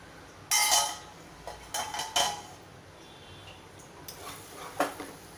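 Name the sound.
lid being lifted off a cooking pot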